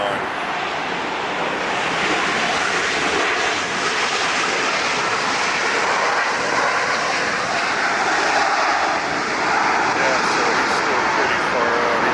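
Big Hawaiian airliner on approach passing low over the beach, a loud sustained engine roar filling the whole stretch, with a person talking over it and faint surf beneath.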